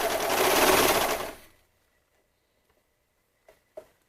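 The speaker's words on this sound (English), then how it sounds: "I always think my serger starts out a little not precisely." A serger stitching fabric whirs in a fast, dense burst close by for about a second and a half, then cuts off into near silence broken by a few faint clicks.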